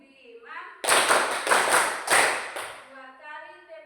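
Five crisp hand claps in an even, quick rhythm during a clapping game in a class lesson, loud and close. A voice is heard before and after.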